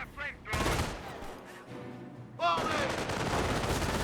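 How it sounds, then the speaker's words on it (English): Rapid bursts of MG42 machine gun fire ring out in a Company of Heroes battle, loud and close, mixed with other gunfire and battle noise. "MG42 getting some good hits there"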